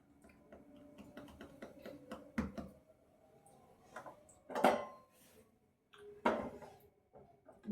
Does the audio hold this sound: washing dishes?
yes